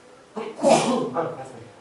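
A single sharp sneeze bursts out close up, a quick inhale followed by an explosive, breathy release.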